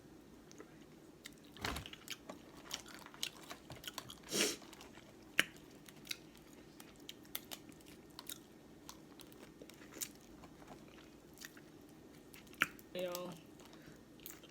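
Crab and seafood eaten up close in a noisy mukbang, with scattered wet chews, crunches and cracks of shell, a few sharper snaps standing out, while a voice briefly speaks.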